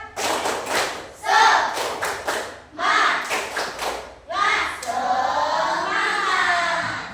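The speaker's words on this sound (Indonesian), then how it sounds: "Tepuk semangat." A classroom of children performs a rhythmic spirit clap, with several sharp bursts of clapping in a patterned beat, separated by short pauses, then a longer stretch of clapping, with voices mixed in among the claps.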